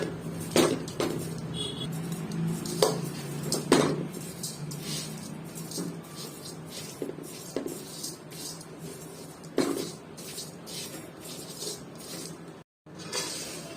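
Vermicelli roasting in ghee in a pan, stirred with a utensil: intermittent scrapes and metallic clinks against the pan come at irregular intervals over a low steady background, fairly close.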